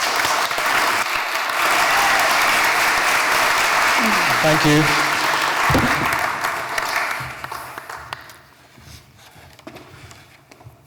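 Audience applause fills a festival hall, loud and dense for several seconds, then thinning out and fading as someone speaks briefly over the tail.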